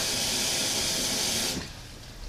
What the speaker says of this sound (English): I'll put a little more water in.